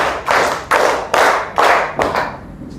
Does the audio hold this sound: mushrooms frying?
no